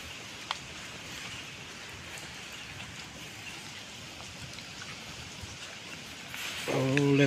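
Rain patters steadily on a durian plantation in the rainy season, a broad, even hiss of drops on leaves, moderately loud and constant, with a brighter burst of sound near the end.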